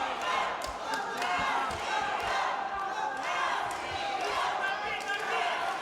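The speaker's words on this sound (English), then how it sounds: "Animated crowd here" An animated crowd cheers during the super heavyweight final of the 2021 IMMAF World Championships senior finals, a steady loud roar with a commentator talking over it throughout.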